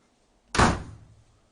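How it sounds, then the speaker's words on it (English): A single sharp door slam lands sharply after a brief silence, then rings out with a short decaying rumble, loud and isolated with no talk. "Slam a little door on it."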